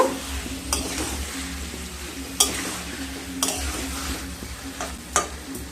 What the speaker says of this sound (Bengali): খুব সুন্দরভাবে মশলার সাথে ওল আর আলুকে মিশিয়ে নেব।